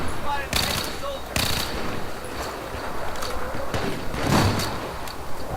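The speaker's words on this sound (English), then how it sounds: "I'm getting shot at from behind with a DMR" Rapid gunfire from a DMR rifle in Battlefield 4, Operation Metro, sounding as sharp repeated cracks spaced unevenly over a steady background rumble.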